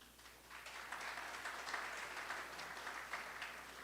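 A distant audience at an Indian media partnership event claps in a faint, continuous patter of many hands that swells slightly and holds steady.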